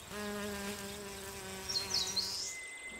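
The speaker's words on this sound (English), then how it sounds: "Eastern honeybees. Workers collecting pollen." Eastern honeybee workers buzzing close by while collecting pollen, a steady droning hum with shifting pitch as individual insects move around, no talking.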